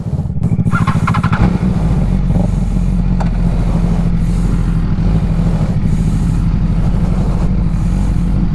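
A 1000RR superbike engine starts up and settles into a loud, steady running drone close by, heard alone without talk.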